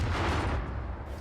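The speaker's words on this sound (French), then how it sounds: "pourquoi il y a des explosions?" Explosions in the video game Far Cry 5 roar as a dense, loud, rumbling blast that fills the short moment and tails off slightly.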